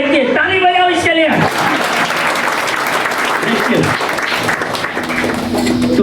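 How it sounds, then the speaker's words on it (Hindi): A church congregation at a sermon breaks into loud, steady applause lasting several seconds, with a voice speaking at the start. "ताली बजाओ इसके लिए।"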